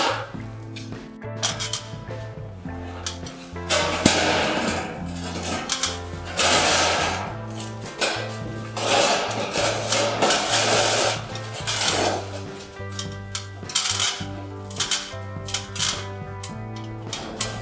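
A powered screwdriver driving screws through the joint of two Tuilacier steel roof panels on a chalet, with repeated bursts of whining motor and rattling metal separated by short pauses.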